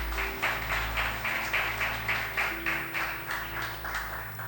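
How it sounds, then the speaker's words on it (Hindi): A church congregation at a Christmas program clapping for one another, a steady rhythmic applause with regular beats about twice a second, moderate and roomy, with a low hum beneath. "आइए तालियां भी बजा दें एक दूसरे के लिए।"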